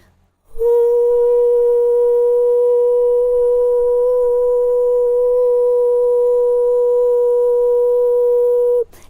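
A single sung B4 note held perfectly straight with no vibrato for about eight seconds, so steady it sounds almost like a pure test tone.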